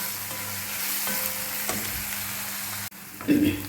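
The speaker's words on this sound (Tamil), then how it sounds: "வெங்காயம் நல்லா வதங்கிடுச்சு" Onions sautéing in a pan, a steady sizzle running throughout with occasional stirring scrapes and a brief clatter near the end.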